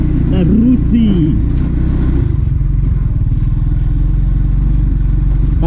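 A basic Rusi motorcycle engine idles and putters loudly up close, a steady low throbbing rumble that runs throughout, with someone talking briefly over it at the start.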